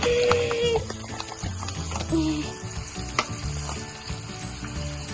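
Sausage gravy sizzles steadily in a pan while flour is stirred into the frying sausage, with continuous crackle, scraping and stirring throughout.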